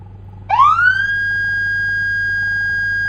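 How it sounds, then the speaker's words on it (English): A police car manual siren in a Roblox game winds up abruptly from low to a high steady electronic tone and holds it, loud and clean, over a faint low hum. "So this is manual sirens."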